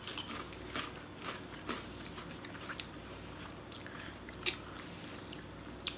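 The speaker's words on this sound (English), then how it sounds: "I'm going to eat a couple more of them." Lay's BLT sandwich flavored potato chips being eaten close up, a run of sharp, irregular crunches over quiet chewing, with a few louder bites standing out.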